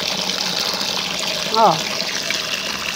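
A pump drawing water and dirt into a fish tank during cleaning of a tilapia water tank, giving a steady close rushing wash throughout, broken once by a short spoken exclamation.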